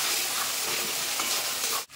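Spiced masala with whipped sour yogurt sautés for a Bengali-style mutton curry, a loud steady close sizzle that cuts off abruptly near the end.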